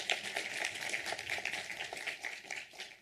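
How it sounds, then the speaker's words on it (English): An auditorium audience at a science pitch competition in Pretoria applauding, steady moderate clapping from many hands sustained for a few seconds. "a round of applause once again to you"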